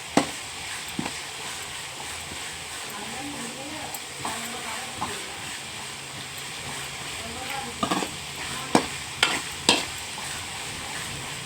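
Ginger paste frying and being stirred in a pan while cooking egg curry, a steady sizzle under a voice, with sharp scrapes and knocks of the spoon growing sharper toward the end.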